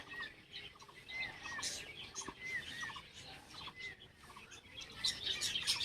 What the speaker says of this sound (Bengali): আর এই পাখিগুলো আমাদের সবসময় কিচির মিচির করতেই থাকবে